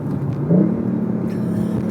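A 2019 BMW i8 Roadster engine barking on a downshift, a short rising rev that swells then settles into a steady rumbling drone, close and fairly loud.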